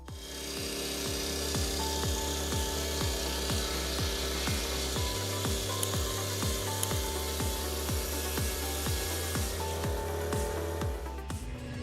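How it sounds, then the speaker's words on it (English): A big sawmill saw cutting through large timber, a steady loud rasping drone with a rapid regular stroke rhythm running throughout, close and continuous with no voices. "The feeling of seeing the saw strings running strong and fast"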